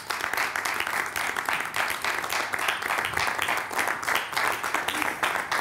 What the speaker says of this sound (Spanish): Un fuerte aplauso para Alejandro Bescós